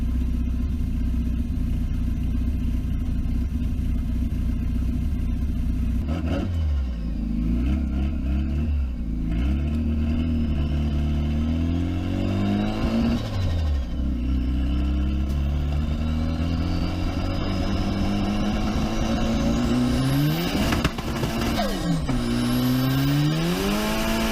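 Citroën C15 fitted with a 400 hp engine accelerating uphill in third gear with its wheels spinning, a steady loud engine roar rising and falling in pitch through several revving sweeps.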